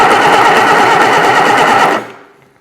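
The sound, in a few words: Reliant super van engine cranking on starter motor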